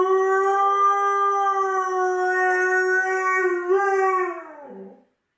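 A dog abandoned out in the countryside lets out one long, sustained howl, loud and close, holding steady before wavering and dropping away into silence near the end.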